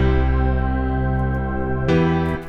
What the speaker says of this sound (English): This organ preset,